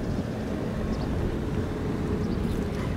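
A passing barge engine's exhaust rumbles steadily, a loud, deep, continuous drone over the water with no voices.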